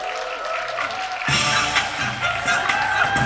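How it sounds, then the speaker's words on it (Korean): A movie talk audience at Lotte Cinema World Tower applauds as director Choi Dong-hoon and actor Kang Dong-won come out, the clapping swelling abruptly partway through and staying full over music or ambient sound in the hall. "큰 박수로 맞이해주세요."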